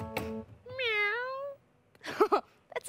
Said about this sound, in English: That sounds like a cat.